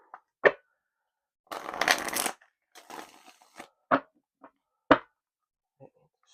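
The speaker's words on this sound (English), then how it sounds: "Shuffle a couple more times." A deck of cards being shuffled by hand during a tarot-style reading: several quick riffles and crisp flicks and taps, close and fairly quiet, in short bursts separated by pauses.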